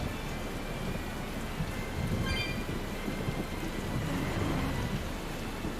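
Steady rain with a low, continuous rumble of storm noise in Tales of Berseria, a constant even wash with no voices.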